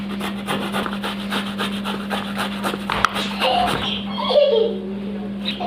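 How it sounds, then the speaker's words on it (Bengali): A cut bottle gourd (lau) rubbed against a kitchen grater, giving a run of rhythmic, close rasping strokes over a steady low hum, with the scraping turning busier toward the end. "এবার লাউটাকে আমি ঘষে নেব।"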